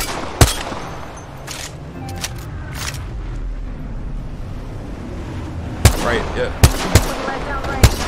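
Gunfire in a shooter video game, sharp shots cracking out singly and in quick pairs, with a sparse cluster near the start and a denser run toward the end, under low background rumble and brief talk.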